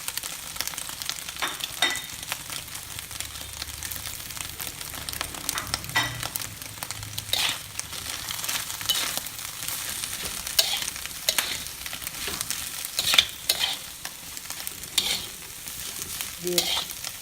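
Carrot and mixed vegetables sizzle steadily in a hot wok for Balinese fried rice, with continuous frying crackle and repeated scraping stirs of a spatula throughout.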